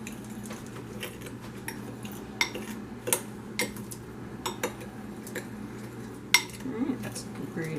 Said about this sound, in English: just gotta stir those together